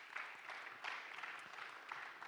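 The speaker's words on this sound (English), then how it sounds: "Once again, one big applause for our panelists and for the whole day." Audience applause for conference panelists at the close of an AI-in-organizations event day, a steady fairly faint patter of clapping from a moderate-sized crowd, rising in a few swells.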